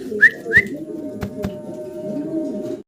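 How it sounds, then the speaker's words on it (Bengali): Green-neck Budapest high flyer pigeons coo softly and steadily at close range, with two brighter whistling notes early on and a couple of sharp taps over the low, continuous murmur. "গ্রিন নেক বুদাপেস্ট কবুতর দেখাচ্ছি আপনাদেরকে"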